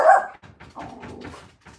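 Dogs bark in a loud, close burst of several short woofs and yips, heard without talk.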